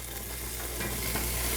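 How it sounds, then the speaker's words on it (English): Chopped green pepper hitting onion and celery already sautéing in a pan gives a steady, close, bright sizzle that swells slightly partway through, with faint stirring and no talking. "So while my onion and celery was sauteing, I cut up my green pepper. I'm just going to add in that now."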